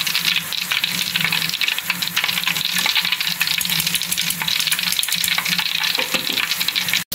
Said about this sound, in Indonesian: Saatnya kita goreng juga daun bawang dan daun jeruknya.